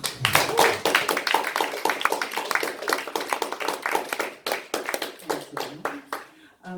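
Audience applause at a live spoken word reading night in a gallery, a dense burst of hand clapping that fills the room, loud and close, then thins out toward the end with a few scattered claps.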